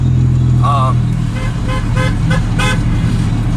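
Car interior on the drive home, steady low engine and road drone filling the cabin throughout, with a couple of short tonal chirps and faint voices mixed in.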